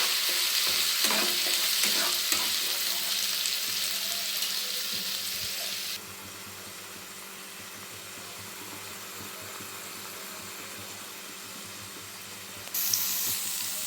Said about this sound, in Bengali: যে মশলাটা তৈরি করেছিলাম, সেই মশলাটা এবার খুব ভালোভাবে ভেজে নেব